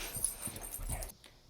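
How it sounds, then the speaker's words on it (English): A puppy whimpers in short, soft yips and whines close by, a few faint cries over about a second before falling quiet, with no speech. "Oh, puppies everywhere."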